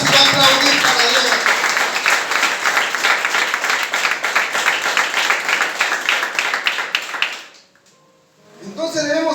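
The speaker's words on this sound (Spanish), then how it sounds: "aplaudan si van a aplaudir para Dios" A church congregation applauds in a loud, sustained burst of clapping that fills the room for about seven seconds before cutting off, followed by quiet speech.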